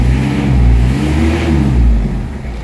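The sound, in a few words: car engine revving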